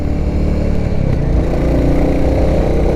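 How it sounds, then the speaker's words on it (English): A 2022 Royal Enfield Classic 350 single-cylinder engine thumps steadily while riding at speed in top gear, a low, continuous pulsing drone with wind noise, close and loud throughout. "A decent thumper sound."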